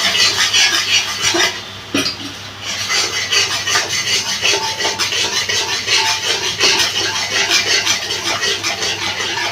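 Sour yogurt is stirred into fried eggplant for Bengali begun bahar, a loud, close, continuous rasping scrape of a spoon against the pan in steady rhythmic strokes, alone without talk.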